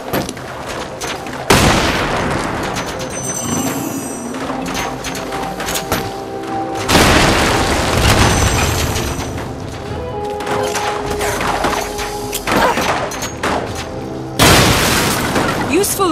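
Bombs explode in Lara Croft and the Temple of Osiris, with several heavy booming blasts at intervals and rumbling debris in between, while voices talk during the action.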